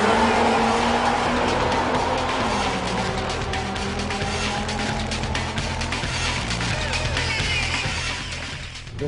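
A Honda Civic EK9 Type R racing, its engine droning loud and close for the whole stretch with tire noise and a rising, shifting pitch, fading slightly at the end.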